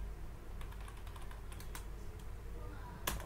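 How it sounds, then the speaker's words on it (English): Quiet typing on a computer keyboard while entering data in an Excel spreadsheet, a short run of light, irregular key clicks with a sharper tap near the end. "For example, we can simply type here"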